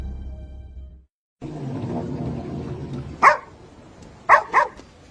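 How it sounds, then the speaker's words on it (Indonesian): A dog barks near a water tank, three sharp, loud barks in quick succession, two of them close together at the end, following a stretch of low rumbling background noise. "melihat asuhnya menggonggong di dekat tangki air"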